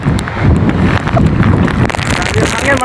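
Strong typhoon wind roaring over a highway in San Roque, Northern Samar, loud and blustery with gusty buffeting against the microphone, continuous throughout with a voice speaking underneath.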